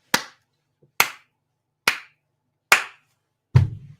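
A single person claps five times, sharp close slaps spaced about a second apart in an otherwise quiet room.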